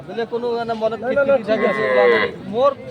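A dairy cow with calf at a rural cattle market gives a long, loud, close moo that rises and wavers, with a second short call at the end.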